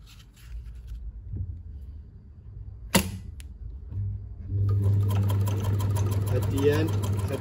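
A sewing machine runs a line of stitching, then reverses briefly to lock the stitch; a sharp click near the middle precedes a steady, fairly loud mechanical whir that continues to the end.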